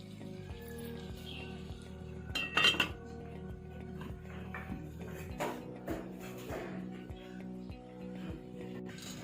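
Metal clinks and clatters of a cooking pot being handled and covered with its lid while chicken vegetable fried rice cooks, a steady low kitchen hum underneath.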